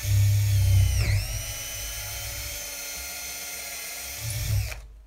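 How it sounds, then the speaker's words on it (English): A power drill bores a hole through the end of a wooden broom handle, a loud, close, steady whine that dips as the bit bites near the start and winds down at the end. "we're going to drill a hole in it"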